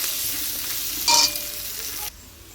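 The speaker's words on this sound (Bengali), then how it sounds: "একটু ভালো করে ভেজে নিয়ে তারপরে শাকটা দেবো" Garlic and chillies frying in a pan before greens go in, a steady close sizzle with a brief louder burst of spatter, then the hiss drops suddenly to a quieter level near the end.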